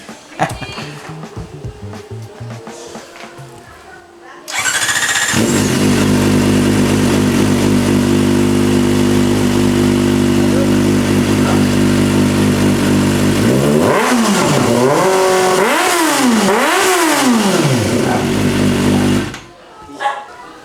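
A loud Kawasaki ZX-4RR engine with a Villain full-system aftermarket exhaust starts and idles with a deep, raspy drone, then revs sharply several times before cutting off; voices are heard before and after.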